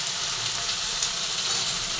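Tomatoes and vegetables sauté in a frying pan, a steady close hiss and crackle of sizzling oil holding evenly throughout with no voices.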